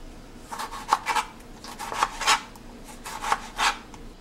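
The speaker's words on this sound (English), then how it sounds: "So I have finished cutting my tomato, onion and pepper and garlic." A knife cuts through tomato, onion, pepper and garlic on a board, making soft, faint, irregular strokes and scrapes in short clusters, with no voices.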